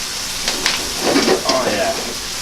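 Fish sauce hitting a hot pan of pad thai, a bright hissing sizzle that flares briefly with stirring, with a voice speaking softly underneath.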